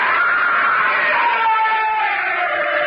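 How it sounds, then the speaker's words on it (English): A man screams in a radio drama adaptation of The Cask of Amontillado, a loud, sustained, strained cry that holds steady throughout. "He began to scream."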